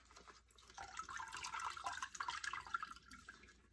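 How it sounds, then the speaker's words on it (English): Water squeezed out of dyed fabric bundles during itajime shibori dyeing, a faint wet trickle and dripping that swells in the middle and then tapers off, heard alone. "you're going to take each bundle and you're going to squeeze the water out"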